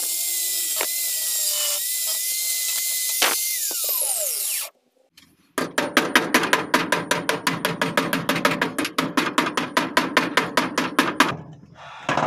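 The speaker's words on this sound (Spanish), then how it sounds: "Le meto el martillo así en esta parte para hacerle un poco de palanca" A long run of rapid metallic strikes and ratcheting taps as a hammer levers on Ford Falcon 221 car metal, loud and close, after a brief whine and a moment of silence.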